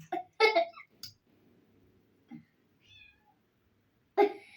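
Two house cats meow at home near a handle they seem to be trying to open, with sharp close meows at the start and end and a quieter one in between, separated by near silence and faint rustling.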